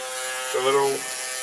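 Clippers cutting slightly damp hair during a dandruff-care session, a constant close electric buzz with a brief rising strain as the blades bite, and a voice faintly present.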